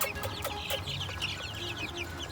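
Several chickens cluck and chatter softly nearby, a scatter of short, irregular calls that overlap at low volume against quiet farmyard background.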